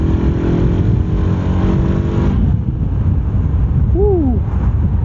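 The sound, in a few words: Honda CBR 500R motorcycle engine revving against the rev limiter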